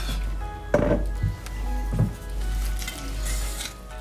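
Vegetables sizzle and fry in a pan after mustard and vinegar go in, with a steady hiss broken by a few louder bursts and stirring clinks, close and alone.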